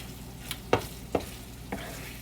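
Tofu fries in a pan, browning with a soft continuous sizzle, and three or four distinct spatula scrapes or taps break through it; no one speaks.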